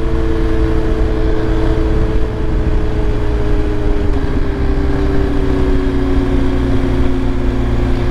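A BMW R 1250 GS Adventure motorcycle, 2023 model, ridden under open throttle: a steady, loud, close engine drone with slowly shifting pitch and constant wind rush, no talking.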